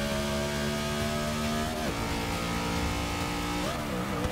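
A race car engine in a video game held at full throttle in second gear while breaking traction, a loud steady harmonic drone with brief pitch dips as revs stutter.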